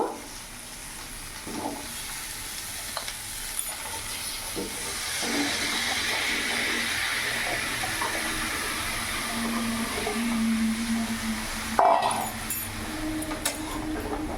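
Diced bottle gourd sizzling in a pan with a fried rohu fish head, a steady hissing fry that keeps going throughout, moderately loud and close, with faint clinks near the end and no talking.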